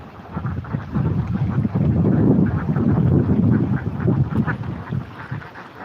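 Egg-laying ducks swimming on water quack repeatedly over a steady rumble of wind and water, dense and fairly loud throughout.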